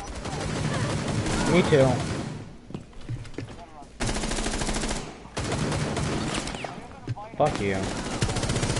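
Gunfire in a first-person shooter video game, loud bursts of automatic shots in clusters across the clip, with players talking and swearing over it.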